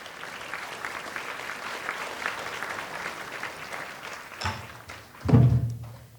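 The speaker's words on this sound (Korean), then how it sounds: "여러분 큰 박수로 맞이해 주시기 바랍니다" An audience at a conference opening ceremony applauds to welcome a pansori singer, a dense, steady patter of clapping that swells near the end, where a few louder thumps and a short burst of noise break through.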